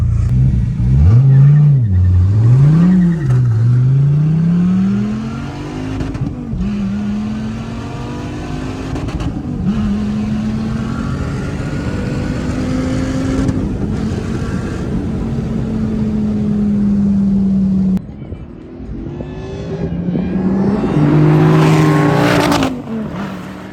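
A Dodge Viper ACR's V10 accelerates hard in a drag race, its loud engine note climbing through repeated rising sweeps with gear changes, then dropping and building again near the end, with no talking.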